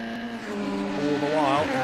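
F3 racing cars scream along Lakeside Straight at Oulton Park, their engine notes droning and then sweeping upward as revs climb, while a commentator talks over the sound.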